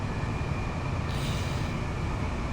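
A Class 377 electric train coasts and slows on the East Coastway line, heard from inside as a steady loud rolling rumble with a constant hiss and a brief higher whine partway through.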